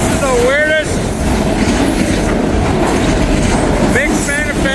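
A mixed manifest freight train of intermodal containers, steel coils and auto racks rolls steadily past up close, a loud continuous rumble with faint wheel squeals rising twice above it.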